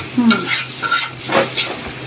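Chicken masala, salt, turmeric and chili frying in a pan sizzle under repeated stirring, with spatula scrapes and soft clinks against the pan in an uneven rhythm, close and alone.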